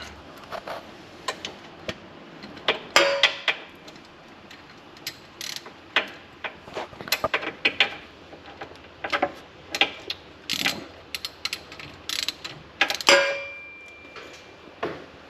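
A ratchet snugs down a bolt on the rear differential of a Dodge Charger Scat Pack, with quick clicking bursts and pauses spread across the clip, close and fairly loud, with no talking.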